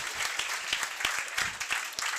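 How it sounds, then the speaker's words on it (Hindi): Applause from an audience at a coaching-class event honouring a teacher, steady dense clapping throughout, moderately loud and close with no talk over it. "तो अजय सर के लिए एक बार जोरदार तालियां"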